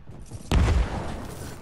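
A loud explosion in a video game bursts in abruptly after a quiet moment, with a heavy low-end thump that decays into a lingering rumble.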